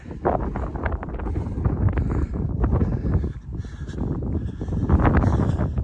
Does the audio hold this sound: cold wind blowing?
yes